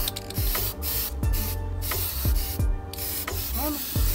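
Repeated hissing bursts of aerosol spray on BMW E30 restoration parts, several short blasts close by over a steady mechanical background hum.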